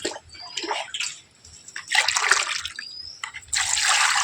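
Water is poured and splashed while oil cake solution is mixed in for watering jasmine plants, with uneven sloshing and gushing bursts close by, then a steadier pour near the end.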